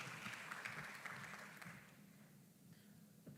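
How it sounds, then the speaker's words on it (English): Audience applause at a food safety conference session, a moderate, steady patter of clapping in a hall that gradually thins and softens over a few seconds. "let's give a round of applause to Sir Francois."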